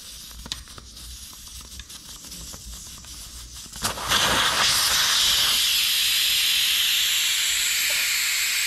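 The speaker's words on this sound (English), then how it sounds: "with the valve stem remover I'm going to remove the air out of the tire." Air escapes from a 2021 KTM 300 XC dirt bike tire once the valve stem core is pulled. A few faint clicks come first, then a loud, steady, close-up hiss rushes out and holds to the end.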